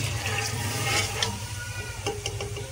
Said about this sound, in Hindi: सारा पानी हम डाल देंगे